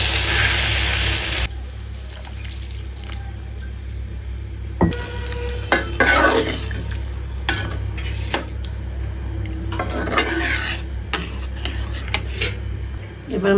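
Gravy goes into a pan of sautéed green banana curry, a loud rush at the start easing into a steady sizzle with spoon clanks against the pan, some speech nearby.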